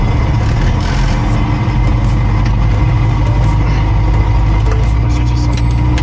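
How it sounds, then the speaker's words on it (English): A light aircraft engine runs at idle after start, a loud, steady, close rumble lasting throughout with faint clicks and rattles above it. "left clear, engine start."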